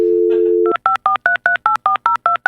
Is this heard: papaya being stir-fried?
no